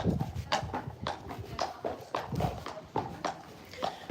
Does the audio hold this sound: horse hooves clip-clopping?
yes